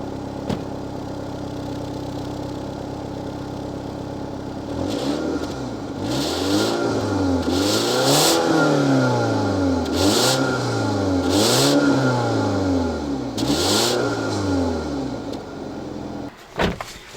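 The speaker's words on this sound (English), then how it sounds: "that's what it sounds like for the exhaust" A 2017 BMW X1 M Sport idles, then revs repeatedly in rising and falling surges through the exhaust, loud and close, with a thump near the end.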